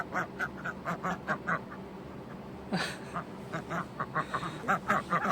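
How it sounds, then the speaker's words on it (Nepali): Ducks quack repeatedly in quick, uneven bursts, several birds calling together over a steady background hum, fairly close. "पछाडिपट्टि चाहिँ हाँस पनि रहेछन्,"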